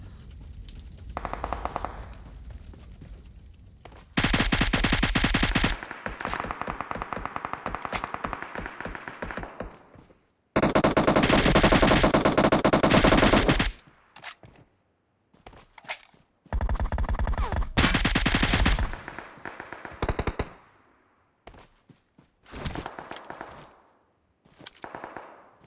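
Bursts of gunfire in the PUBG Mobile video game, several loud rapid volleys and single shots separated by short gaps of near silence, close and sharp.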